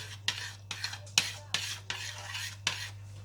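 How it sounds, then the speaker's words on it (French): A spoon stirs sauce for spinach cannelloni in a pot, giving a steady run of close scraping, clinking strokes about twice a second over a constant low hum. "Je vais mélanger ma sauce."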